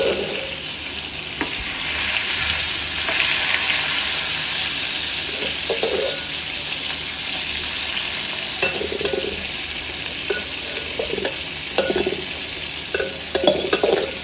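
Curry is stirred as it fries in a pan: a dense, continuous sizzle, near and loud, with scattered utensil scrapes and small metallic taps against the pan, and no talking.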